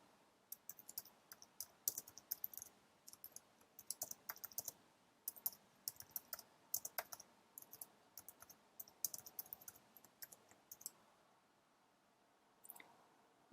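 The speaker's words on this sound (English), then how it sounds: "Type your next set of search terms in here" Computer keyboard typing of search terms in rapid, faint, close clusters of key clicks with brief pauses, ending in a few isolated mouse clicks.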